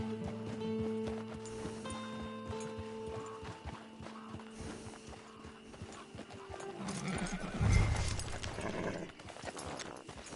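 Horse in the Red Dead Redemption 2 Online game, with a steady clip-clop of hooves moving along a camp path, then a loud whinny near the end over game music.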